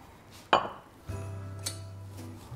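A serving plate for mussels cooked with fennel, white wine, chili and saffran is set down with a single sharp ceramic clink, followed by a low steady hum in a quiet kitchen.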